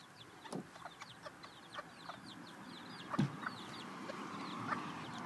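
D'Anvers chickens give soft, scattered clucks and short chirps over a low farmyard murmur, with a louder burst of clucking near the middle.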